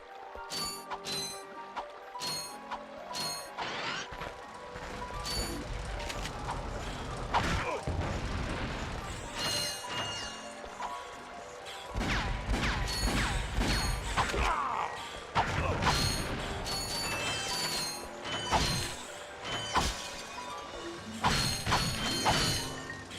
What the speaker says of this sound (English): Ah, so satisfying to collect bolts.